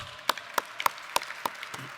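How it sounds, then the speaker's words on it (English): Sparse hand claps from a small crowd at an economic forecast summit, a handful of distinct claps in a loose rhythm, fairly faint. "Let's give them a round of applause."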